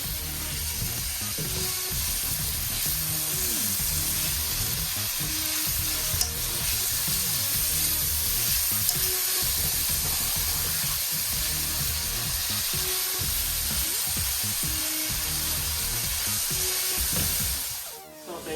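Carrots and other vegetables fry in a pot for a Cajun chicken and sausage jambalaya, giving a steady, close sizzle with scraping and stirring clicks throughout. The sizzle fades out at the very end.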